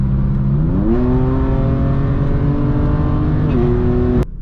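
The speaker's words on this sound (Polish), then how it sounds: "wystarczy, że wciśnie gaz do podłogi, przytrzyma ją przez dosłownie dwie sekundy e, i samochód bardzo szybko wystrzeli do przodu" BMW M car with a DCT dual-clutch gearbox under full-throttle kickdown, the engine note climbing sharply and holding a loud, strained tone, with a brief dip at a quick upshift before it cuts off abruptly.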